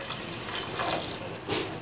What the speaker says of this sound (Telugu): దీంట్లో మనం కొంచెం వాటర్ పోసుకుందాం.